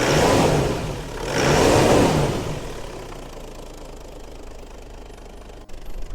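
Toyota HDJ80 Land Cruiser 12-valve turbo diesel with a CT26 turbo, revved twice in quick succession, each loud swell dropping back to a steady idle that runs on alone for several seconds.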